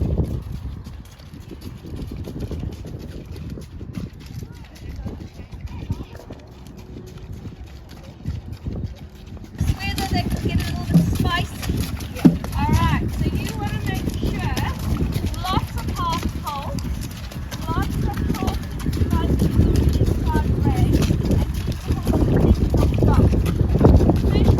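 Horse hooves clip-clopping during a riding warm-up on a rainy day, a steady rhythmic beat under wind noise and a person talking throughout, growing louder partway in.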